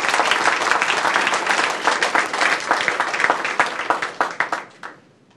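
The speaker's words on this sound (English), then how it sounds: "Give her another round of applause." Loud, dense applause from an audience at a regional medical hospital center location announcement, sustained at first and then thinning into scattered individual claps before dying away near the end.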